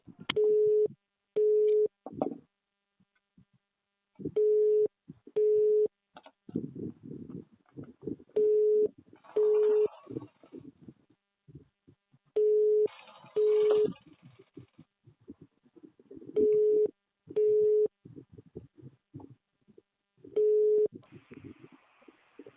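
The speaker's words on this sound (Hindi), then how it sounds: "आप जिस व्यक्ति से बात कर रहे हैं उसने आपकी कॉल को होल्ड पर रखा है।" A telephone line on hold plays pairs of steady electronic beeps that repeat every few seconds at an even volume, with faint background noise and murmuring in the gaps.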